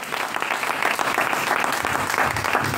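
A church congregation applauds steadily at a service, dense continuous clapping filling the room at a fairly loud level without pause, with no speech over it.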